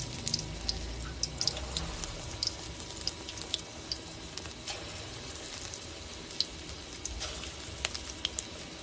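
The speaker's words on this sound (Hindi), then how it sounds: "घी गर्म है, अब इसमें हम हाथों की मदद से ही छोटे छोटे पकौड़े डाल देंगे।" Small mash dal pakoras dropped by hand into hot ghee fry with a soft, steady sizzle dotted with frequent tiny crackles and pops, fairly quiet and with no talking.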